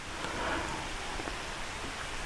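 Steady rain hisses down onto leaves in a overgrown field with birch trees, a dense, even wash of sound without voices.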